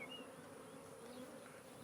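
Honey bees hum steadily around a hive, a continuous close drone with occasional louder passes of individual bees, no talk.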